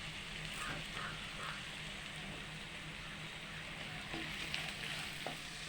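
Sliced onion and curry leaves frying in a pan for Kerala-style beef liver fry, giving a continuous close sizzle with a few stirring taps and spatters, no talking.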